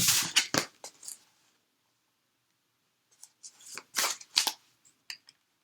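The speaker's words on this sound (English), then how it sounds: "And I'm shuffling all of this up." Quick bursts of tarot cards being shuffled and riffled close by, a flurry at the start, a pause, then another cluster of crisp papery snaps.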